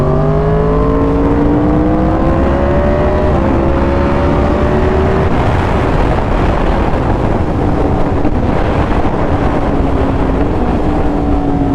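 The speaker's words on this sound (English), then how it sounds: "Listen to those freaking downshifts." A 2020 Yamaha R1 motorcycle engine heard loud and close over strong wind rush, its pitch stepping down through several gear changes as it drops revs, with a blip near the middle.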